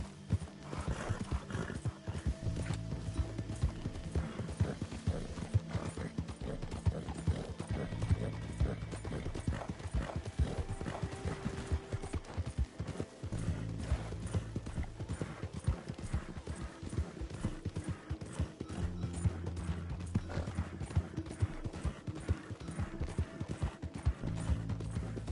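A horse in the Red Dead Redemption 2 video game trots with steady, continuous hoof clip-clops, joined by an occasional whinny, heard without speech.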